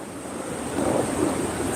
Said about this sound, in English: That water is just insanely rushing.